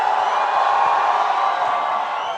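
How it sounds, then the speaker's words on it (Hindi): A culture fest audience cheers and claps for a guest, a dense continuous roar of applause with scattered whoops that holds steady throughout and thins slightly near the end. "जरा जोर शोर से तालियां हो जाए"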